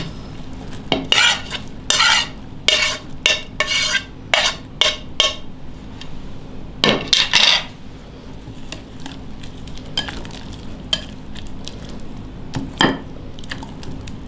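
Carrots and spring onions stirred into dumpling filling, a series of quick scraping and clinking strokes of a utensil against a bowl, bursts coming in rapid clusters with brief pauses between.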